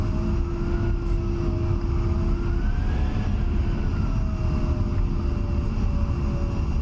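A-10A jet engines in the DCS flight simulator game during takeoff, a steady, loud, broad turbine roar with a faint rising whine, continuous throughout.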